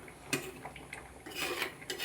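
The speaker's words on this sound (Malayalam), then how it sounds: "നമുക്കൊന്ന് ഇളക്കി വെച്ച് കൊടുക്കുക" Utensils clink and scrape against a pot in short, irregular bursts, a stirring sound with metallic taps close by.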